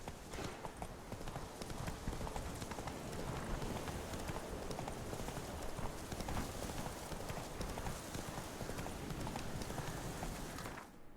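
Hooves of a galloping horse pound in a steady, continuous clip-clop rhythm through a video game world in The Witcher 3, loud and close throughout.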